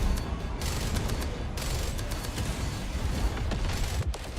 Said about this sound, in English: Okay, cannons are firing.